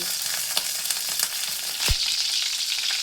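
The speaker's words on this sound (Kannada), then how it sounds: "ಈ ಥರ ರವೆಯಲ್ಲಿ ಈ ಥರ ಮುಗಿಸಿ ಫ್ರೈ ಮಾಡ್ತೀನಿ ನೋಡಿ ಫ್ರೆಂಡ್" Fish pieces coated in semolina (rava), seasoned with turmeric, chilli powder and salt, shallow-frying in a little oil: a bright, continuous close-up sizzle with one dull thump partway through.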